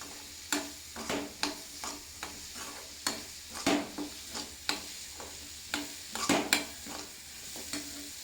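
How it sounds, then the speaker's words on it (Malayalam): Spice masala fries in oil for a mango pickle, with a spoon scraping and stirring the pan in a run of sharp, roughly evenly spaced strokes over a soft, constant sizzle. "കായോ മസാലക്കൂട്ട് എല്ലാം കൂടി ഒന്ന് എണ്ണയിൽ കിടന്നിട്ടൊന്ന് മൊരിയണം."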